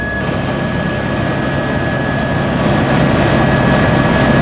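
An Agriculture Ministry aircraft engine drones loud and steady during an aerial flood-damage survey over Nakhon Sawan province, a continuous close cabin roar with a faint whine and no speech.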